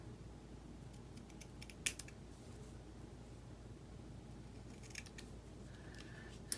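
Scissors trimming a brushed-gold ribbon, a few faint crisp snips, one sharper cut near the start and a cluster of light clicks later, over a quiet room with no speech.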